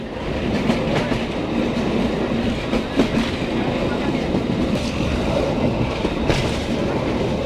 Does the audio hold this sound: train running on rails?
yes